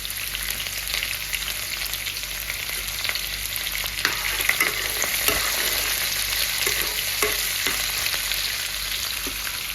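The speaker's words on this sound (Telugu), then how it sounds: "ఆనియన్స్ వేస్తున్నాను" Onions fry in a pan for a curry, a steady loud sizzle with occasional stirring scrapes and crackles, no talking.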